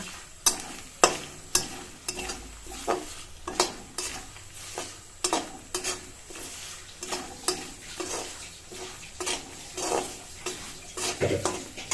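Spices with turmeric powder frying in a pan for churumuri, with a close, steady sizzle and repeated sharp scrapes and taps of a spoon stirring against the pan in an uneven rhythm, no talking.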